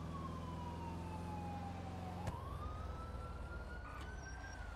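A slow-wailing emergency siren in a roleplay video game rises and falls steadily over a low vehicle engine rumble, with a sharp click midway and a fainter second siren tone in the background.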